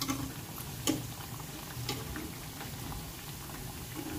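Bread snacks fry in hot oil over a high flame, giving a dense, continuous crackling sizzle with occasional sharper pops, close and steady throughout.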